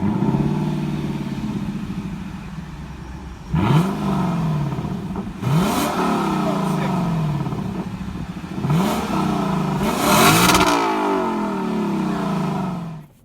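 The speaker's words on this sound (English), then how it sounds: "It kind of gives you a little bit of a rev on startup." A 2018 Lexus LC 500 engine idles on startup, then revs sharply several times, each blip rising and settling back, the last rev longer and louder, close and without talking.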